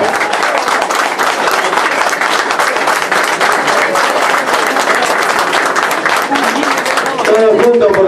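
A crowd applauds loudly as a trainer receives an award at a horse racing commission ceremony, dense sustained clapping close and full, with a voice speaking near the end.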